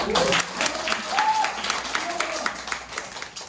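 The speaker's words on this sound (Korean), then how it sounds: "명언했는데 박수 안 쳐요?" An audience at a seminar breaks into steady applause, a dense patter of many hands clapping, with a voice faintly audible beneath it.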